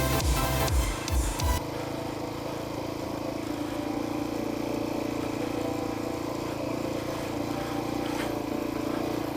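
A heavily loaded KLR motorcycle with a 14-tooth sprocket, luggage and lots of fuel climbs uphill through sand, its engine a steady, close droning rumble after a burst of noisy rattling at the start.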